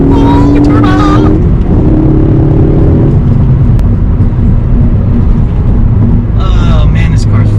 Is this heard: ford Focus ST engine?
yes